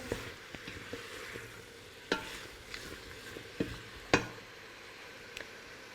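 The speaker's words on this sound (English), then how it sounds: "Let's get the garlic in. Give that a stir." Garlic frying in a pan and being stirred, a faint background sizzle broken by several sharp clicks and scrapes of the spoon against the pan at irregular intervals.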